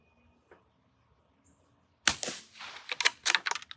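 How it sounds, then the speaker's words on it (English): A .22 rifle fires a string of sharp, close shots in quick succession, several loud cracks with short gaps, following a near-silent pause with one faint tick. "5 shots with this .22, the one I use all the time."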